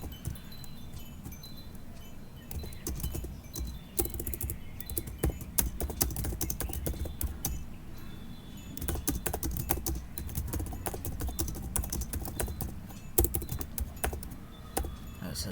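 Rapid clicky keystrokes on a computer keyboard while writing Python code, close and steady with irregular bursts and brief pauses.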